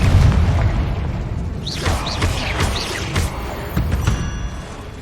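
Confringo explosive spell blasts in the video game Hogwarts Legacy, loud booming bursts with whooshing impacts and crackling debris repeating in quick succession.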